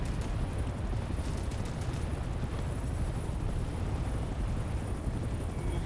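Helicopter rotor and engine roar in the Vietnam-era video game Hell Let Loose: Vietnam, a loud, steady broadband drone that stays constant with no talk on top.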